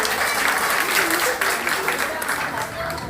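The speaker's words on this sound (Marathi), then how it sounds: "सर्वांनी जोरात टाळ्या." An audience at a World Tribal Day gathering bursts into loud, sustained clapping, a dense continuous patter from a large crowd heard up close, with a voice speaking briefly over it.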